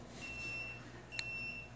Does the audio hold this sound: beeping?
yes